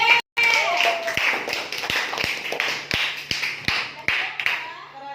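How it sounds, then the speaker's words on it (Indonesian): Students in a sixth-grade classroom clap for group B, a scattered patter of hands with a few sharp, distinct claps standing out, moderately close, mixed with murmuring voices and brief speech near the start. "Beri tepuk tangan, kita beri semangat untuk kelompok B."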